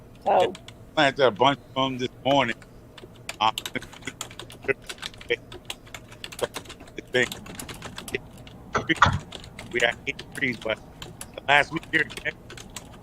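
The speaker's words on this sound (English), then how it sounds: "I think somebody was typing." Rapid clicking of computer keyboard typing, fairly close and clear, running in bursts alongside someone talking during a live stream.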